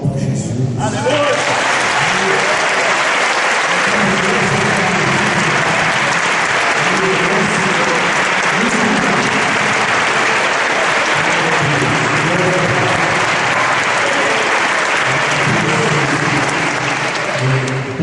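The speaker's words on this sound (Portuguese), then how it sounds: "Vamos dar uma salva de palmas para Jesus." Steady, loud applause from a church congregation at a Minas Gerais convention, a dense wash of many hands clapping that holds for the whole stretch, with faint voices and cheers underneath.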